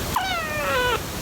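A kitten meows once, a clear drawn-out high-pitched cry lasting under a second, close by over steady background hiss.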